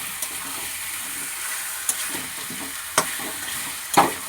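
Chicken meat sautéed in a pan sizzles steadily while a spoon scrapes and knocks against the metal a few times, close and with no voices.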